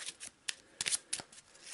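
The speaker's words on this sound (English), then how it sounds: "let's have a quick shuffle, a cut" Deck of encounter cards being shuffled and cut during an Eldritch Horror board game, a few quick riffling bursts separated by short pauses, close and fairly quiet.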